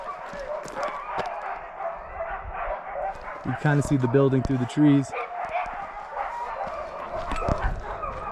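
Dogs and wolves at a wolf and dog rescue bark and howl in the distance beyond trees along the Colorado Trail, a steady chorus that swells midway, heard outdoors under a hiker's close talk.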